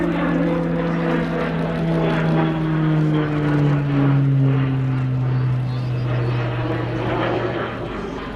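A propeller training aircraft flies past at an airshow while performing a slow roll, its engine droning loudly with a falling pitch as it passes, under a commentator's voice.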